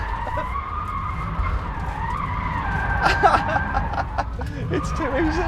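Rimac Nevera electric hypercar in drift mode, tyres squealing and skidding through a slide, with rising chirps and screeches under people talking inside the car.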